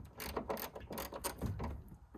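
A wrench ratcheting off the last nut holding the trunk lid of a Nissan 350Z, a quick series of close metallic clicks with short pauses, heard alone.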